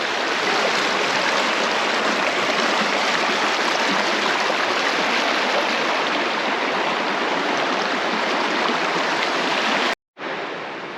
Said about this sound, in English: Crossing over the Whitewater River